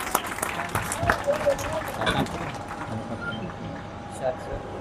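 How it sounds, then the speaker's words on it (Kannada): Audience applause at a ceremony, a dense patter of clapping that rises and fades over several seconds with a steady hum beneath and a faint murmur of voices. "ಅವರಿಗೂ ಕೂಡ ಎಲ್ಲರೂ ಜೋರಾದ ಚಪ್ಪಾಳೆಯನ್ನ ತಟ್ಟೋಣ."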